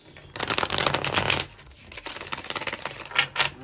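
A fairly new deck of tarot cards is riffled and shuffled at close range, one long burst of rapid crisp flutters followed by shorter, softer shuffles and a couple of taps.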